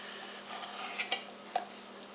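A metal 8-inch cornbread pan is handled and shifted aside, giving a few brief clinks and scrapes against a quiet kitchen background.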